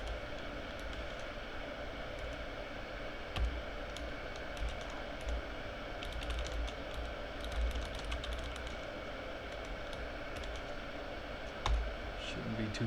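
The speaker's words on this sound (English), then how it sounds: "let's type it anyways" Steady clicking of a computer keyboard as someone types a database command, keystrokes coming in irregular quick bursts against a faint steady background hum, with no talking.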